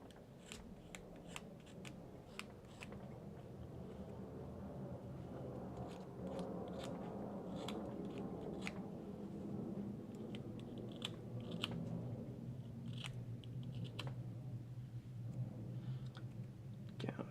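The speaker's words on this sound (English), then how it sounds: "we're going to have this fence post" A model fence post being trimmed and gouged with a hobby knife, giving soft scraping and sharp clicking cuts in an irregular series, faint and close, with quiet low voices under them.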